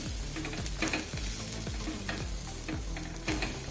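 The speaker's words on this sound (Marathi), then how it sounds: "पाच मिनटं चांगलं परतून घ्यायचं आहे म्हणजे आपला मसालासुद्धा भाजला जाईल आणि भाज्यासुद्धा त्या मसाल्यामध्ये व्यवस्थित परतून होतील" Vegetables and masala being sautéed for Maharashtrian masale bhat, with a spoon scraping rhythmically through the pan over a loud, steady sizzle, close and without talk.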